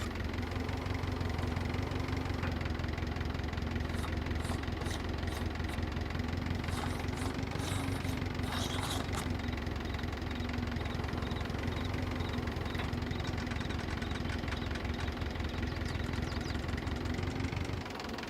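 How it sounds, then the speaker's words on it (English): A Valpadana subcompact tractor engine idles steadily in a video game mod, a continuous mid-pitched rumble that stays constant and alone for the whole stretch. "Turn off the engine."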